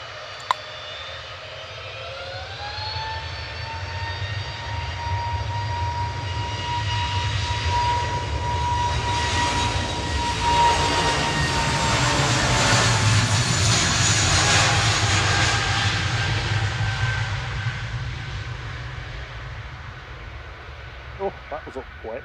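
Airliner taking off at Manchester Airport, a long rising jet roar with whining engine tones that swells to a loud peak and slowly fades, heard from a distance under occasional talk.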